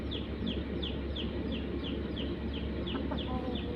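A fighting cock kept at a cockfighting camp clucks in a quick, evenly spaced series of short, sharp calls over a constant low rumbling background.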